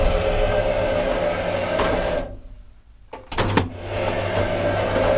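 A 1963 Titan traction elevator motor in a Copenhagen building runs with a steady low hum and whine, briefly dropping away to near quiet before a clunk and the hum resuming at the same level.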